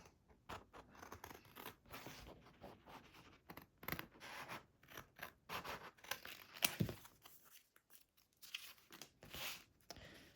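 Scissors cutting paper scraps, heard as faint, irregular snips and crisp rustling up close over a quiet background, with no talking.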